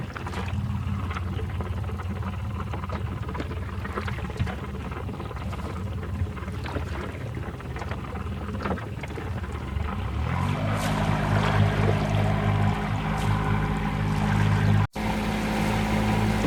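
An outboard motor on a small trailer sailboat starts up partway through, its steady low drone settling in over wind and water noise and running loud and close to the end.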